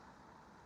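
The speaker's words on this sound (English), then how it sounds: "Followed by a diesel." A diesel vehicle passing by on an industrial roadside, a brief, faint engine rumble heard in the distance.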